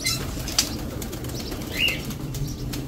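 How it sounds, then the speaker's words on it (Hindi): A burst of wings flapping close by, with soft pigeon movement and light rustling around it in an outdoor setting where many pigeons gather. "माशाल्लाह से कबूतर इतने ज़्यादा हो गए"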